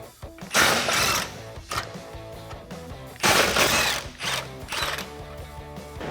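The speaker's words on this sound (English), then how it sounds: "We're gonna grab a 15 millimeter socket and remove these." Bursts of a power tool spinning a 15 mm socket to remove the bolts behind the license plate of a RAM 1500 come as several loud, close whirring runs separated by short pauses.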